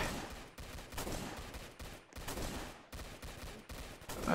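In the Roblox game Zombie Attack, a beam launcher fires continuously as a dense, harsh stream of digital gunfire, broken by a few brief pauses and holding a steady, loud level throughout.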